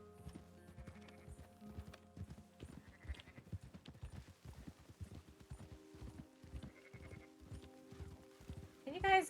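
Sheep bleat over a steady clip-clop of horse hooves while herding in the video game Red Dead Redemption 2, the hoofbeats rhythmic and close with faint ambient game sound beneath.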